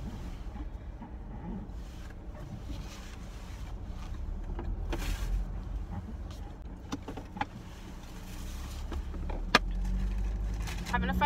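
Steady low engine rumble of a car on the move, with road noise throughout and a few faint knocks and clicks inside the cabin.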